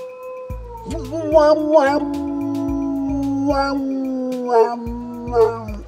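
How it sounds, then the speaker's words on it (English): A dog gives long, rising wolf-like howls over music, in several drawn-out wavering calls, loud and close. "the dog has mastered the art of wolf imitation"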